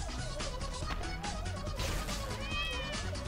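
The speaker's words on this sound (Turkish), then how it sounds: "Kötü kedi geliyor." Cartoon cat meows from the Nyan Cat: Lost In Space video game sound loudly over busy game music and effects, several wavering cries running through the short stretch with no talking.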